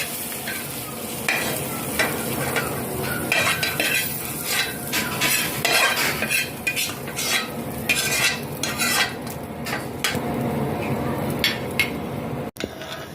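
A sardine omelette (tortang sardinas) sizzles steadily in a frying pan, loud and close. A utensil scrapes and stirs in bursts, and a sharp clatter comes near the end.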